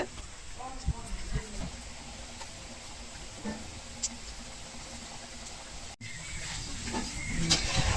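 Badusha sweets frying in hot oil give a steady soft hiss and bubbling with scattered small pops and crackles. A voice talks over it at times.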